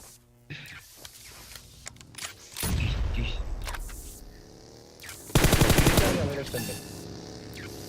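M4 rifle fire in PUBG Mobile comes as rapid automatic bursts, one sustained volley and then a sharper, louder rattling burst, mixed with game sounds and some speech.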